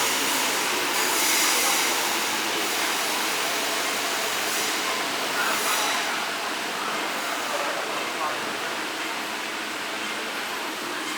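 An MTR train waiting at a platform at Mong Kok East station, Hong Kong, with a steady broadband rumble and hiss, continuous and fairly loud, with faint voices in the background.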